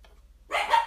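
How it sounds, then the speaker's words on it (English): A dog gives one short, fairly loud bark near the end, after near silence with a low hum. "you're going to really hear the dogs barking."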